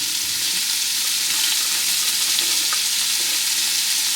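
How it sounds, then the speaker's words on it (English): Chopped vegetables including celery sauté in a hot pan, giving a steady, close sizzle and crackle with faint stirring scrapes, no voices. "Let's go ahead and put all of these in and kind of saute them a little bit."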